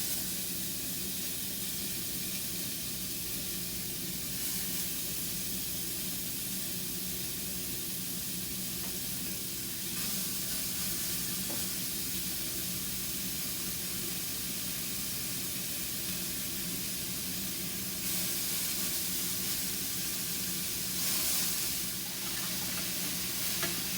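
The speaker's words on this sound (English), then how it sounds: "So now I'm going to fry it in a medium-sized pan, and the temperature is a bit above, like 6." Beef kebab frying in a medium-sized pan over moderate heat, around setting six: a steady, close sizzle and hiss that runs without pause for the whole stretch, with no voices.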